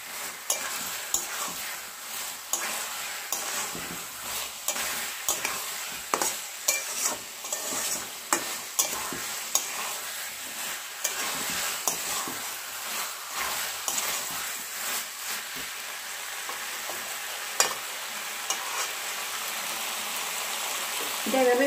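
Fried potatoes are stir-fried with spice masala in a pan for alur dom, with frequent spatula scrapes and knocks in an uneven rhythm over a continuous soft sizzle, close and fairly loud.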